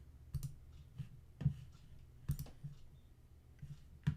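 Computer mouse clicks while working in Photoshop, sharp single and double clicks spaced roughly a second apart, close and quiet against a faint background hum.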